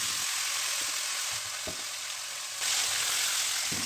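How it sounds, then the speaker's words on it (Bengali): Marinated chicken fries in oil in a wok, a loud, steady sizzle with a few soft stirring knocks and a brief surge in the hiss near the end. "তো চিকেনটাকে তেলের মধ্যে কিছুক্ষণ ভেজে নেব।"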